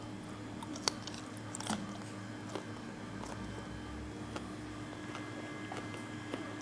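Someone eats crispy braised lamb meat up close, with soft, irregular biting and chewing crunches over a quiet, steady background hum.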